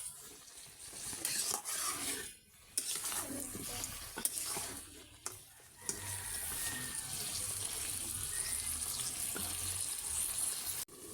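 Spiced food sautés in oil with a close, steady sizzle, interrupted by several scraping stirs early on before settling into continuous frying with no voices.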